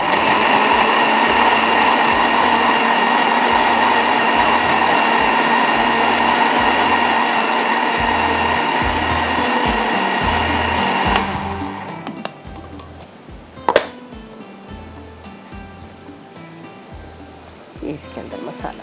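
A kitchen blender grinds onion and tomatoes into a thin paste with a loud, steady whir that runs continuously, then cuts out. A clunk and quieter handling noises follow, with someone speaking over the motor.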